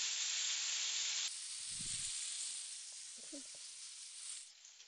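Pieces of coriander chicken sizzle in hot oil in a pan with a loud, steady hiss that jumps in intensity as another piece goes in, with brief handling clatter and no talk.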